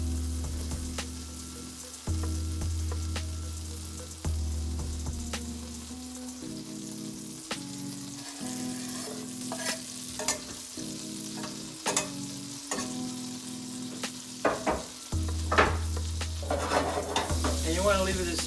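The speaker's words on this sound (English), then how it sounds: "Then we're going to go ahead and add that garlic." Garlic sizzles and fries in a hot pan with oil, a steady crackling hiss broken by occasional stirring scrapes and clinks of a utensil against the pan, with no talking.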